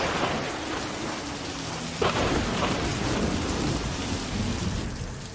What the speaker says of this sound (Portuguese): E no caminho de volta para cá, ele foi apanhado por uma tempestade violenta.